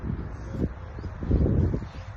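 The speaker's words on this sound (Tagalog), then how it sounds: "Hangin dito, alam niyo ba? Mahangin!" Wind in Dubai buffets the microphone in low, uneven rumbling gusts, swelling and easing over a couple of seconds with no talking.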